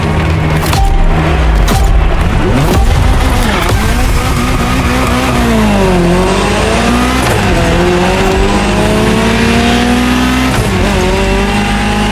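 A Ferrari GTO in the racing game The Crew Motorfest roars loudly at full throttle, its engine pitch climbing and dropping through gear changes while tires squeal and skid across several hard passes.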